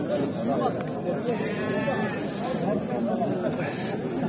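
Goats, kids and sheep bleat intermittently amid a busy crowd of overlapping voices at a livestock market, with people talking and bargaining close by throughout.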